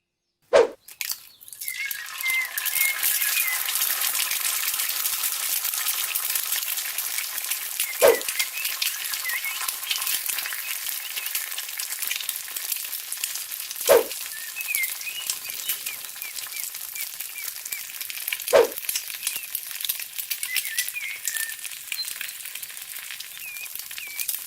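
Cheetos-coated chicken fries in hot oil with a steady, bright sizzle that runs throughout, broken by a few sharp clicks or clacks near the start and at intervals.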